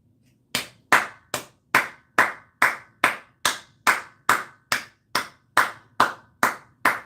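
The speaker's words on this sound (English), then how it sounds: "Cynthia, why you clapping that up?" A single pair of hands claps about fourteen times, sharp, close and evenly spaced, alone in a quiet room.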